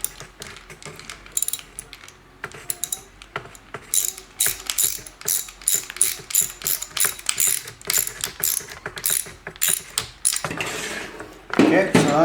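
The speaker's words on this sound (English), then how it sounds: "It's so much easier when you're using a can wrench." A can wrench ratchets in quick clicking bursts, loud and close, with short pauses between strokes and a scraping rattle near the end.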